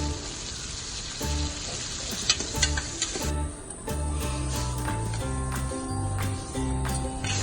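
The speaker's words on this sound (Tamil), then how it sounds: "கொஞ்சம் சீக்கிரம் வதங்க வெங்காயம் தக்காளி நல்லா வதக்கி விடுங்க" Onion and chopped tomato sautéing in a pan for sambar rice give a close, continuous sizzle with occasional stirring scrapes, while loud steady background music plays over the frying throughout.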